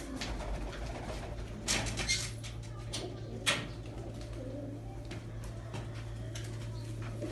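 Pigeons coo in a loft, a low steady rumble running through the whole stretch with a few brief louder bursts of wing or movement noise; no voices are heard.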